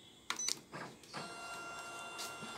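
A Kyocera TASKalfa photocopier prints a copy, with a few sharp clicks followed by a soft mechanical whir and rolling feed noise, faint and fairly close, without speech.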